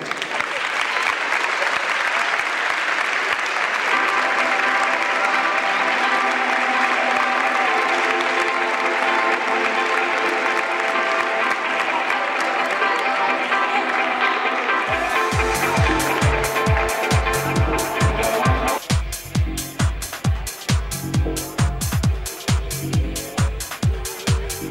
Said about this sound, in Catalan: Us demanem ara un fort aplaudiment per a tots els membres del bàsquet Cullera.